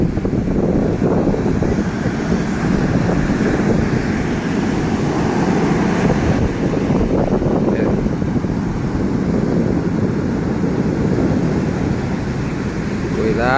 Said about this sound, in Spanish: Miren las olas tan tremendas y potentes.